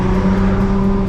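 Nissan GTR on drag radials, its engine droning at a steady, loud rev while the tires are warmed up, a close, continuous exhaust tone held with no talking.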